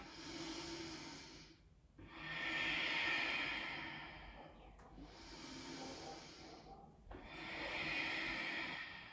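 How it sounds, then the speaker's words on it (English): Slow, deep breathing during a yoga sequence, long airy inhales and exhales alternating in a steady rhythm, close and soft, each breath lasting a few seconds with brief gaps between. "Take the deepest breath in and out."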